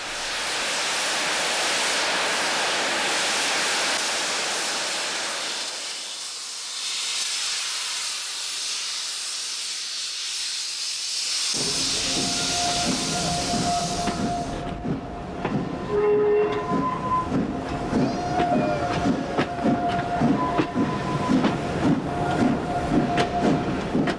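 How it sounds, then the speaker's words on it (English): The steam locomotive Merlin hauls vintage carriages north toward Portrush in Ireland. A broad steam hiss gives way after a short lull to steady rhythmic wheel clatter with bright squeals, close and loud, with no voices. "Once the steam locomotive, with the beautiful name of Merlin, gets started, we travel toward Portrush in the north of Ireland."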